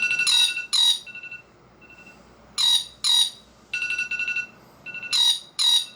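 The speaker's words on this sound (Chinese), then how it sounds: "我这辈子第一次感受到比苹果闹钟声音还要吓人的铃声。" A loud electronic alarm ringtone from a Nothing Phone blares in repeated bursts of shrill beeping tones, pausing briefly between groups, with no voices.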